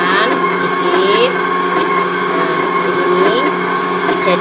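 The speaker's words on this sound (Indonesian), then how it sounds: "pakai mixer Mito MX100 itu kita tinggal masukin aja barangnya" A Mito MX100 electric hand mixer whirs steadily while beating batter for steamed coconut-milk sponge cake, a loud continuous motor hum with slight pitch shifts as ingredients go in.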